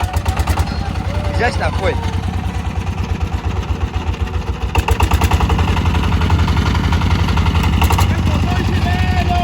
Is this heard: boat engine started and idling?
yes